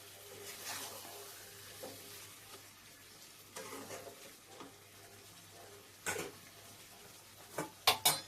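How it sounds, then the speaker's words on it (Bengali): Chicken curry with fried potatoes is stirred in a pan with a spoon, giving soft scraping and a quiet sizzle, broken by a few sharp clinks and scrapes against the pan near the end. "আলুটাকে দিয়েও ভালো করে নাড়িয়ে চাড়িয়ে নেব"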